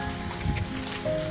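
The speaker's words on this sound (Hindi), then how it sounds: "बारिश रुकने का नाम ही नहीं ले रहा है।" Steady rain pattering on surfaces outdoors in a rural village while a cow is out grazing, a continuous close wash of drops with faint tones underneath.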